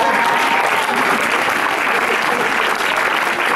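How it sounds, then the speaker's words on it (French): A theatre audience at a Disneyland Paris show applauding loudly and continuously, a dense wash of many hands close and steady throughout. "Merci à les applaudir."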